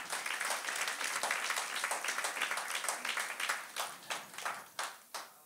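A congregation at a Pentecost worship service claps loudly together in a dense, sustained wave of applause that thins toward the end into a few separate, fading claps.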